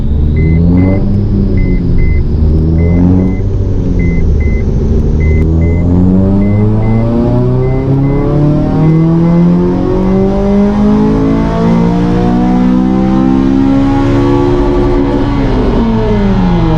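Honda Civic FN2 Type R engine revving hard on a dyno, a loud, continuous rising roar with harmonics climbing steadily through the revs, close and alone.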